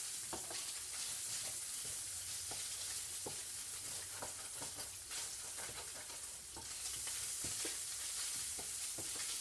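Spam browns in a frying pan, giving a soft continuous sizzle with scattered pops and crackles and occasional scraping stirs, fairly quiet and close, with no talking.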